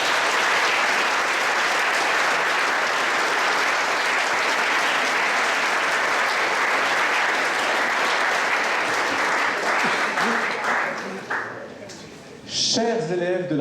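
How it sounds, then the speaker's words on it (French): Loud, sustained audience applause at a school promotion ceremony, a thick steady roar of clapping that thins toward the end before a voice begins speaking. "Ça mérite quelques applaudissements."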